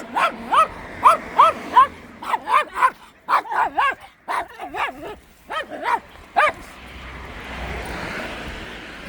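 A dog barks in rapid, loud bursts close by, several sharp barks in a row, followed by a steady background roar like a passing aircraft.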